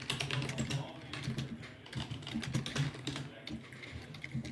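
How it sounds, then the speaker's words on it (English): Steady keyboard typing, a quick run of soft clicks and taps over a low room hum, continuing throughout without pause. "We can hear you typing"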